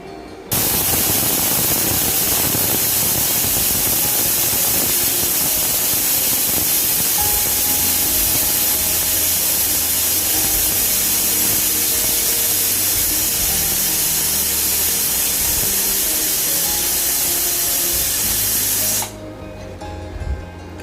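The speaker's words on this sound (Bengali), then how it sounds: "এবার কুকারের মুখটা বন্ধ করে এটাকে আমি সিটি দিয়ে দেবো" A pressure cooker on the stove cooking mutton lets off a loud, continuous rush of hissing steam for about eighteen seconds, then it cuts off abruptly, leaving only quiet background.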